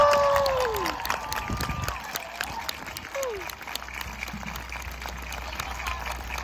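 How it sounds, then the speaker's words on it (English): Crowd at the Stony Brook University class of 2024 commencement cheering and applauding, a broad wash of clapping and shouts that starts loud and settles into steady applause, with distant voices mixed in. "let's give a big cheer for our Stony Brook University class of"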